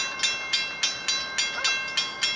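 A train passes at close range. Its wheels make a regular, evenly spaced clacking about every third of a second over a steady high hum.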